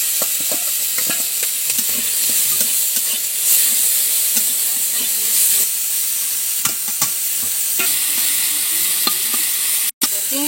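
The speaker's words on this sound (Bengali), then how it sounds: "দিচ্ছি একটু পাঁচ ফোড়ন, আদা বাটা, লবণ হলুদ মাখানো চিংড়ি দিয়ে দেবো।" Prawns coated in salt and turmeric fry in a pan with five-spice seeds and ginger paste while cooking by a Sundarbans river. Loud, continuous sizzling and hissing comes from close by, broken by occasional stirring clicks.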